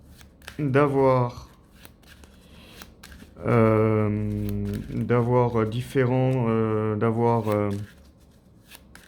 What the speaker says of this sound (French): On remélange tout ça.